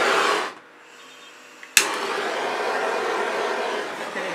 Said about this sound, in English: It'd be better if I lowered the heat on my torch